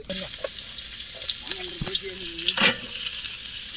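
Onions and beef sizzling and frying in a pan over a steady hiss, with stirring clatter and a brief scrape, while people talk nearby.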